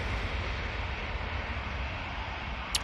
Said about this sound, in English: It's EasyJet A320 CEO is off to Tivat